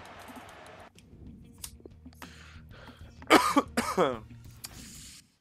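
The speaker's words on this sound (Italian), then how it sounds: "Mi sale la tosse ai massimi, fioi," Loud coughing fit from someone commentating a FIFA 19 Milan career match: two or three harsh, rough bursts in the middle, close to the mic, with faint keyboard clicks and room hum around them.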